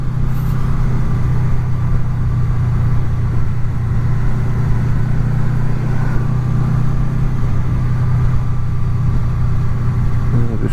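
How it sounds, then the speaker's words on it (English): A Honda VFR800 motorcycle's engine drones steadily and loudly close by while it rolls through slow-moving road traffic. A low, constant hum runs throughout with little change. "Just slow moving traffic."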